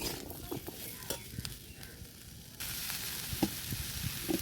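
Potatoes frying in a pan, a constant crackling sizzle that grows brighter and louder partway through, with faint knocks of a spatula and no talking.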